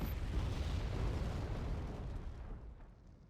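Artillery fire in Wargame: Red Dragon: a broad, rumbling explosion that holds loud for about two seconds and then fades out, with no voices.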